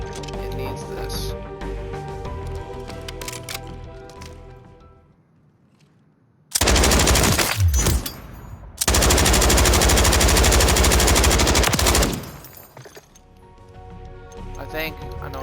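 Light machine gun fire in a video game: two long, loud sustained bursts of rapid automatic shots, broken by a brief pause, standing out between stretches of game music and ambient sound.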